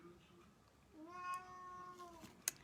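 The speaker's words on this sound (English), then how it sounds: "My cat's complaining. I don't know if you hear him." A house cat lets out a long, drawn-out complaining meow, faint and somewhat distant in a quiet room, followed by a brief sharp click.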